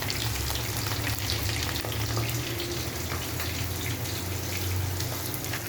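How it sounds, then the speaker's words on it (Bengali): Hilsa fish fries in oil with a loud, dense, close sizzle that runs without a break under a low hum of background noise. "এখানে ইলিশ মাছ ভাজা হচ্ছে।"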